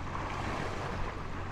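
A gentle wind blows over the open sea near Bornholm aboard a sailing boat, a steady broadband rush with low rumble from wind on the microphone, continuous and unbroken, no voices.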